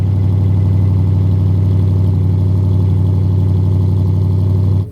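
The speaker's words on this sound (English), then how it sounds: "I think this is the perfect setup for me for running the diesel heater in my tent" A diesel heater starting up on a frosty -4 °C morning at a Canadian winter tent camp gives off a loud, steady, low droning hum with rich harmonics, unbroken for the whole stretch before cutting off at the very end.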